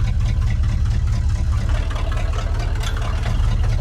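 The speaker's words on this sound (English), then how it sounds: "It sounds terrible." The rough engine of an old 1977 C-30 square body tow truck idles close by, a low uneven rumble with a rattly, throbbing tone and no voices.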